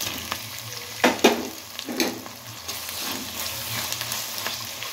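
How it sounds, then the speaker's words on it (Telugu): Green chillies frying in a pan for chicken biryani, a low steady sizzle broken by a few louder clatters of a spoon against the pan, close by, with no speech. "ఇవి కొంచెం గోల్డెన్ బ్రౌన్ కలర్లో వచ్చేదాకా వేయించుకోవాలి"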